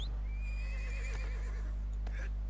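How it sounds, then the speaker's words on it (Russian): A horse whinnies in the game ArcheAge, a single rising and falling neigh over a steady low hum, with a faint hoof clatter near the end. "Здесь есть лошадка."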